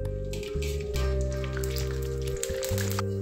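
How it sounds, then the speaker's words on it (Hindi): About a dozen cashews fry in a little oil in a pan, giving a steady, close sizzle and light crackle over a constant low hum throughout. "यहाँ एक पैन में मैंने थोड़ा सा ऑयल लिया है और यहाँ पर मैं 10 से 12 काजू को फ्राई करूंगी"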